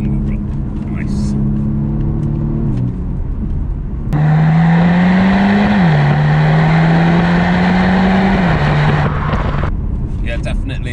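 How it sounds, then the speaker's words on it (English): BMW M135i exhaust note while driving, a steady low engine drone that steps up in pitch as it accelerates, holds near and loud, then eases back, with a faint voice underneath. "Yeah, definitely a slightly deeper note on the exhaust."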